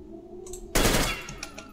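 An automatic rifle fires in Metro Exodus: a sudden, loud, close burst of gunfire breaks a quiet stretch and rings out before fading.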